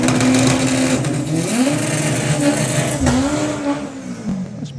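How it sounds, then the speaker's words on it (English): A front-wheel drive drag racing car at a drag strip makes rough, unhealthy engine noises, a loud, close, continuous roar with wavering pitch that dips and climbs as it revs. "Not very nice noises coming from Ahmed Jamshed's car"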